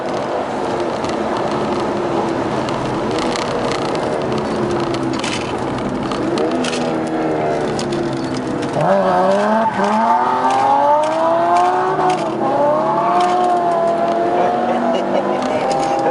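A BMW race car drives hard around a circuit, its engine a loud continuous drone that climbs and falls with gear changes and surges louder partway through, with a voice speaking over it.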